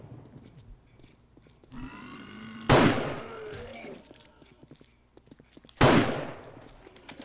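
Two sharp gunshots in a video game, fired at a police officer during a horde fight, each a loud sudden blast over a low background rumble, with voices heard faintly between them.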